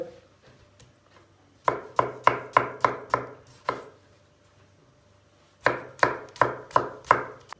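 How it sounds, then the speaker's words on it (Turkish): Rapid knife chopping on a cutting board as peppers are finely chopped, two quick bursts of steady rhythmic strokes separated by a pause, close and clear. "Biberleri de çok ince doğrayacağız."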